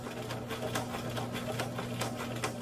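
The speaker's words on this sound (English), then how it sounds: "You can sew right over your pins." A sewing machine stitches along a seam at the half-inch line, running straight over pins left in the fabric, with a steady mechanical hum and regular needle clicks throughout, close and moderately loud.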